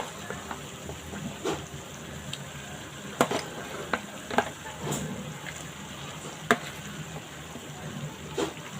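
Marinated farm chicken fries with onions in a green-masala curry, giving a continuous close sizzle broken by irregular scraping and clattering strokes as it is stirred.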